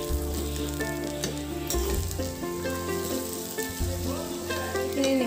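Pulao rice seasoned with salt and sugar fries in a pan with a steady, continuous sizzle, close and unbroken, with occasional scraping of stirring.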